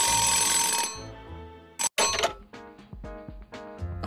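A telephone rings in the video game Nights of Azure, a bright bell-like ring that sounds at least twice against light background music and game sounds, with no talking.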